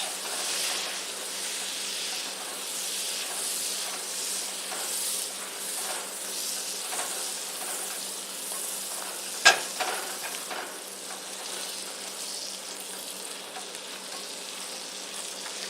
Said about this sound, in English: You want to keep stirring this. The more you stir it, the better the marshmallows melt.